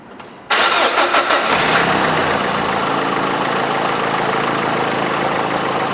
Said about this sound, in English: We'll start the engine up.